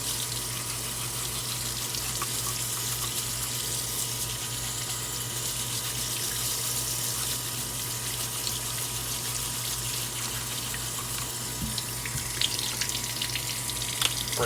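Steady running tap water splashes into a sink while miniature models are scrubbed beneath it, a continuous close wash with faint rubbing and occasional small knocks.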